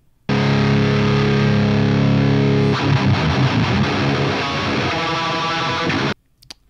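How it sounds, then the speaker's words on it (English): An electric guitar plays through a Mesa amplifier, captured with several microphones: a thick, heavily distorted sustained chord rings out, then gives way to choppier palm-muted playing before cutting off abruptly, loud and close. "So that's what the Mesa sounds like"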